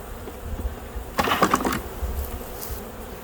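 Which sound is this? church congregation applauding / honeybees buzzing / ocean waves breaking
honeybees buzzing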